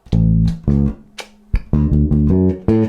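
A bass guitar plays a syncopated reggae groove with short plucked notes separated by brief gaps, loud and close.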